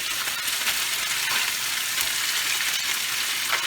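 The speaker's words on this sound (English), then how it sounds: "I'm about to fry this rice in that little chop of oil that I put in there" Day-old leftover rice fries in a little oil in a skillet, a dense, steady sizzling hiss close up with faint stirring textures and no talk.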